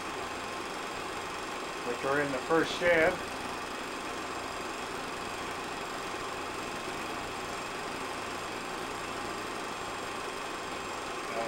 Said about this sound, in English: Now we're taking the engine up to get the cars